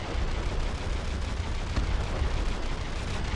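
A ship's stern gun battery in From The Depths fires in a dense, rumbling barrage, heavy low booms overlapping into a continuous roar, loud and without pause, no voices over it.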